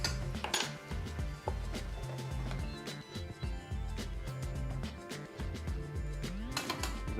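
A pan of Thai green curry pork stir-fry being stirred, with repeated metallic clinks and scrapes of utensil against pan over a constant low sizzle, fairly close and busy.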